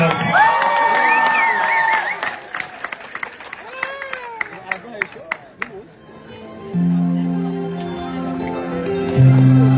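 Wedding guests applauding and cheering after a performance at a Rwandan marriage celebration, a crowd of claps and whoops under a speaking voice, then music swells in.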